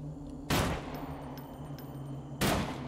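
Two sharp, loud gunshot bursts in the video game Them and Us, about two seconds apart, cut through a steady low electronic hum with no talking.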